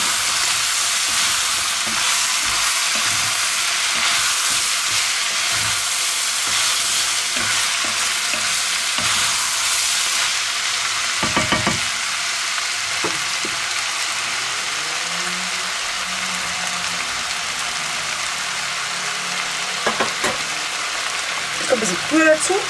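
A colorful spaghetti pot is stirred over the heat, a continuous loud sizzle and bubbling with intermittent spoon scrapes and knocks throughout, and brief faint voices near the end.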